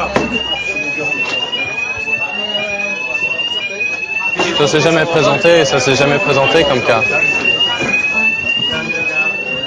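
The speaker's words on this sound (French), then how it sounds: "C'est l'alarme incendie." A fire alarm rings continuously with a repeating electronic sweep while several people talk in French over it, the chatter growing louder and busier halfway through; a real fire, not a drill.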